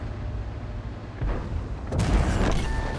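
Artillery shells exploding in World of Tanks: a muffled boom lands midway, followed by a heavier, louder blast with a rumbling tail, over constant low battle noise.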